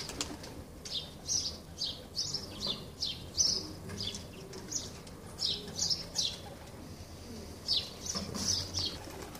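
Pigeons of a distinctive breed flap their wings as they come down, a string of quick, soft wingbeat bursts at fairly close range, with faint coos and chirps between them.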